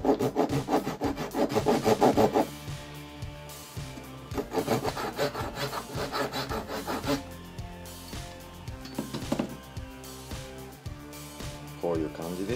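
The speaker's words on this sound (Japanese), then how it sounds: "こういう感じでリップを取り付けるところを切っていきたいと思います。" A saw cuts a slot for the diving lip in a handmade wooden fishing lure: steady, close rasping back-and-forth strokes in quick bursts, pausing briefly between runs, with someone talking quietly in Japanese throughout.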